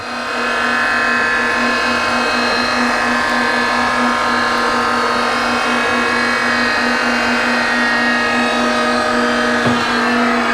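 A precision surface grinder makes a steady, loud whine as its wheel passes across a hardened bolt. The tone holds even throughout, with no talk over it.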